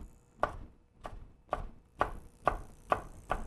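Kitchen knife chopping a bell pepper into julienne strips on a cutting board, seven crisp evenly spaced chops about half a second apart, close and clear with no talking.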